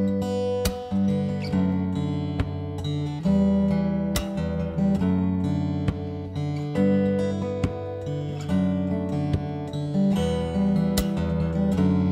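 Steady acoustic guitar strumming with sharp percussive thumb slaps and palm hits on the strings, keeping a regular groove, close and loud.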